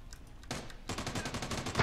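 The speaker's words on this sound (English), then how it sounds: "He just turned the corner and shot me" Gunfire in PUBG: a short burst, a pause, then a sustained rapid volley of close shots with no talk over it.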